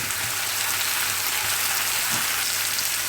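Curry leaves and tomato frying in hot oil give a steady, close, dense sizzle with a crackling hiss and no pauses or talk.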